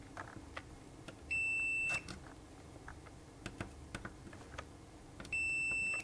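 A multimeter gives two short electronic continuity beeps, each about half a second and a few seconds apart, during testing of a Brother WP-1 serial interface, over faint clicking and handling noise.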